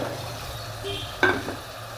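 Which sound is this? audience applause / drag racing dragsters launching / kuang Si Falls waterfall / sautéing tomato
sautéing tomato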